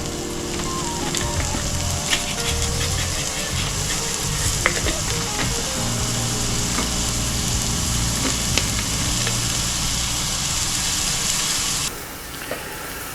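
Kielbasa stew vegetables and garlic, seasoned with salt and pepper, sizzle and fry steadily in a pot over medium heat, a continuous close crackle with occasional stirring scrapes and no talk.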